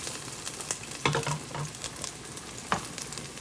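Garlic and ginger sizzling in hot oil in a pan, a steady crackling fry with occasional louder spits and stirring scrapes, close and alone.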